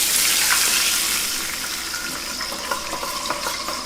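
Water is poured into a hot pan of browning garlic for General Tso's tofu, giving a loud rushing hiss that settles into steady crackling sizzle with small pops.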